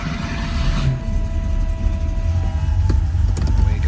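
1986 Porsche 911 Carrera in Iris Blue starting from cold: a loud, steady low engine rumble running continuously at idle, with a few sharp clicks near the end, no talking.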